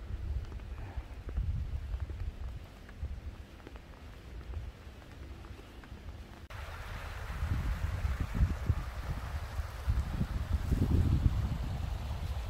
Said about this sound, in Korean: 계곡의 물소리가 졸졸 나죠.